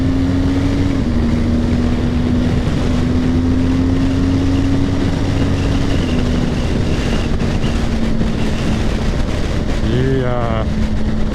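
A BMW R1200GS motorcycle with a Yoshimura R77 exhaust hums at a steady pitch under heavy wind rush at freeway speed, with a short burst of talk near the end.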